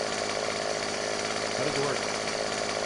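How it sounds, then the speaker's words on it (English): A chainsaw in Farming Simulator cuts a tree with a steady, rasping buzz, while a person asks a brief question over it. "I got a chainsaw."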